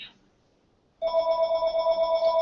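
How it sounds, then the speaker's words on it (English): A telephone rings during a live spiritual talk, a steady electronic ring tone that starts abruptly after a second of near silence, after a brief chirp at the very start, and then sounds loud and continuous. "What are we going to do about the phone now?"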